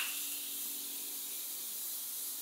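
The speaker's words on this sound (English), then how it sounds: "Before applying my blush, I like to go in with some setting spray again from Morphe." Morphe makeup setting spray hisses from the bottle in one continuous, even burst lasting a couple of seconds, close and steady with no talk.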